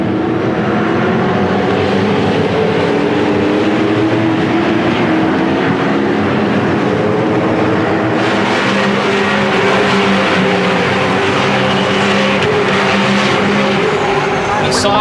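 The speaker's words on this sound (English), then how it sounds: "the roar of these cars snaking their way around this spectacular circuit" Race cars at the 2007 Dunlop Grand Finale on the Phillip Island circuit make a loud, continuous roar of layered engine tones that rises and falls as they pass, with commentators talking over it.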